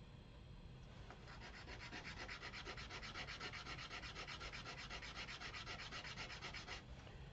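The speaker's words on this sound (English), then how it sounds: "So we can do that same thing by doing that on this sanding board." Quiet, rhythmic rasping as a small wooden candle ornament is rubbed back and forth on a sanding board, quick even strokes repeating for several seconds.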